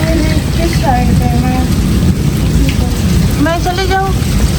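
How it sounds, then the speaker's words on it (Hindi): Heavy rain pours steadily in a dense, continuous hiss close by, while voices talk over it on a rainy day at home. "बारिश इतनी तेज़ हो रही है, देखिए रुकने का तो नाम ही नहीं ले रही"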